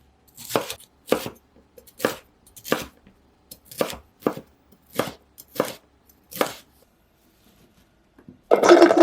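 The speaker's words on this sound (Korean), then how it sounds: "빨간 파프리카 1개는 반으로 자르고 가운데 씨를 빼어내고 털어준 후 적당한 크기로 자르세요." A knife chops a halved, seeded red paprika into pieces on a board, about a dozen crisp separate strokes at an even rhythm, close and clear with no talk, ending in a short burst of running water.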